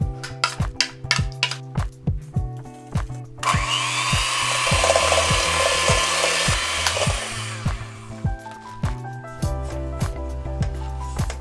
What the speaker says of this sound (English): So first we're just combining our mascarpone and sugar.